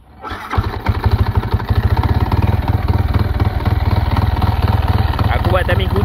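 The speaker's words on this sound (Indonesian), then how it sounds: "Exhaust bunyi tak ubah kuat kan." Motorcycle fitted with an EKZOS back pressure exhaust starts and settles into a loud, close, pulsing idle with a rough thumping rhythm, then is blipped lightly; a voice talks briefly underneath.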